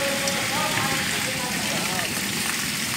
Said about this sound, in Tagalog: Laki yung mga yelo.